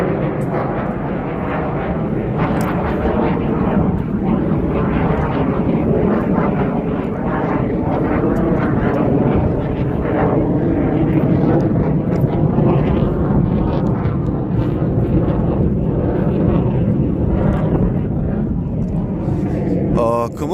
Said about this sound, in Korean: 비행기 많이 다니네요.